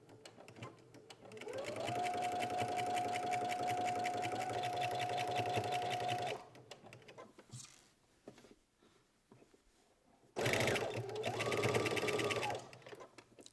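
Two bursts of a sewing machine stitching pajama fabric, a long even run followed by a pause of quiet handling and a shorter second run, close and clear.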